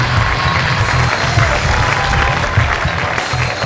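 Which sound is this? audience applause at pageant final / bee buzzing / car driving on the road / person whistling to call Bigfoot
audience applause at pageant final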